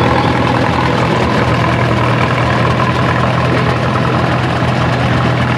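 A 1957 Farmall 350 tractor engine runs steadily at a plow day, a loud, close, continuous low rumble with no speech over it.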